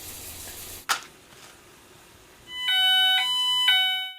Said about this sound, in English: Within seconds, the dual optical alarm goes off.